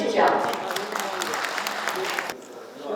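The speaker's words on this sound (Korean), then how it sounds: "김성남 신공항 추진본부장님을 여러분 큰 박수로 맞이해 주십시오." An audience at a regional construction industry workshop applauds to welcome a speaker, a dense burst of clapping that fades out after about two seconds.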